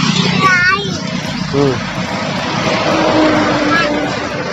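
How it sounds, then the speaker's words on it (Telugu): A lorry and other vehicles rumble along a road through the Adilabad forest, their engines passing close by under people talking, with a voice among them. "ఫారెస్ట్లో లారీ వస్తున్నారు చూసారా అక్కడ ఓ వెహికల్స్ వస్తున్నాయి"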